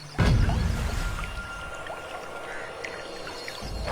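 A cartoon river flows with a sudden rushing onset that settles into a steady gurgling wash of water, moderately loud and without speech.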